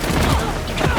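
Rapid enemy gunfire in the PS5 game Spider-Man 2, a dense continuous burst of overlapping shots mixed with busy game noise, loud and steady throughout with no talk.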